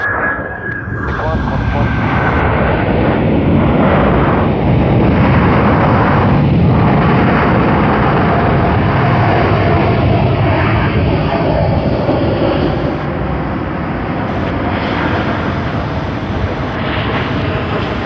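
A Korean Air KE401 airliner in retro livery roars loudly at Sydney Airport, a sustained heavy jet rumble that stays strong throughout the clip, with radio-style talk mixed in.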